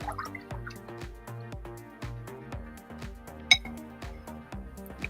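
A paintbrush swished and rinsed in a water cup, a quick series of close, light watery drips and taps with a small clink of the brush against the container, no talking.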